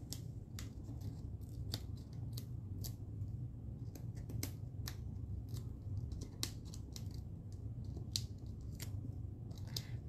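Scissors snip through a strip of cardstock while making a bird-themed greeting card with Stampin' Up! supplies, giving sharp, close, repeated cuts at an uneven pace over a steady low room hum, with no voices.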